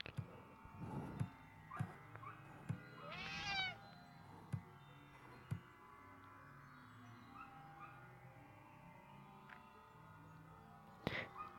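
A cat meows in the Friday the 13th killer puzzle video game, one rising cry at about three seconds, with scattered game clicks, thumps and soft musical tones around it and no talking.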